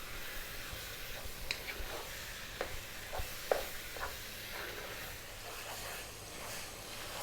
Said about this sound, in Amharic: ይሄን በደንብ እጠብሰዋለሁ ከሽንኩርቱ ከዘይቱ ጋር ከእርዱ ጋር።